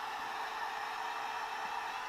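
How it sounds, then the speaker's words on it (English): A hair dryer blows steadily and close by, drying alcohol ink on a craft surface, a constant broadband whoosh with no pauses and no talk. "Just going to dry with a hairdryer."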